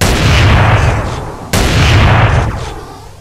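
Two loud, booming shotgun blasts from a GTA V-style weapon mod in GTA San Andreas, the first firing at the start and the second about halfway through, each followed by a long rumbling decay.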